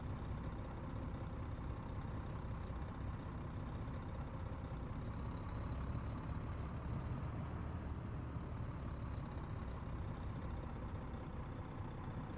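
A modded truck engine in American Truck Simulator drones steadily at a low, even rumble, a constant cab-interior hum with no voices over it.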